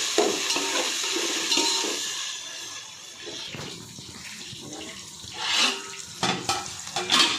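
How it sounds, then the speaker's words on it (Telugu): Ginger garlic paste fries in a pan for chicken fry biryani, a steady close sizzle with scraping stirring strokes and occasional louder spoon clatters, no talking. "రెండు టేబుల్ స్పూన్లు అల్లం వెల్లుల్లి పేస్ట్ వేసుకోవాలండి. వేసుకొని కలబెట్టాలి."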